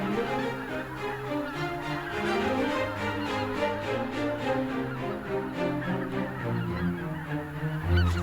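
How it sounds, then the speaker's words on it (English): A flock of geese honks continuously on overflow waters in the Biebrza wetlands, their layered calls loud, dense and overlapping throughout with no voices. "Geese spend the night on overflow waters, where they feel safe."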